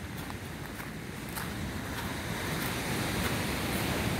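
Ocean waves wash ashore near Penha, a continuous surf roar with gusting wind buffeting the microphone, growing slightly louder toward the end and with no voices.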